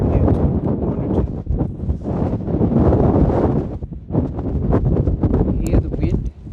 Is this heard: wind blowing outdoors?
yes